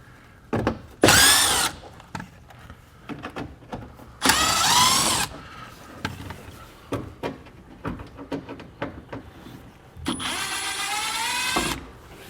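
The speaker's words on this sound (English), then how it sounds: "In our wheel well, we'll have to remove 3 T15 Torx bit screws." A power drill backs out T15 Torx screws in the wheel well of a 2023 Chevrolet truck: three loud whirring bursts, the last one longest, separated by clicks, knocks and handling noise.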